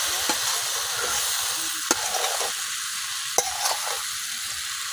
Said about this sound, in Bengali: তেল আর হলুদের সাথে আমি খুব ভালোভাবে বড়ইটা কিছুক্ষণ ভাজা নিলাম।